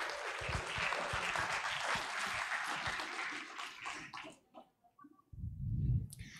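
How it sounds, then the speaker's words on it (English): Audience applause for a speaker and moderator at a public lecture, a steady, dense clapping that fades out near the end, followed by a brief low rumble. "give applause for our speaker and moderator today"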